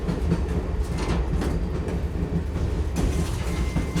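A train climbs the ghat section between Punalur and Sengottai, with a continuous close rumble of carriages, rhythmic clickety-clack of wheels on rail joints and occasional sharper knocks and rattles, and no voices.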